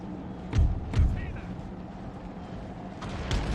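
Cannon artillery fires in the Empire: Total War strategy game, two muffled low booms close together followed by another later, fairly faint beneath a steady background bed.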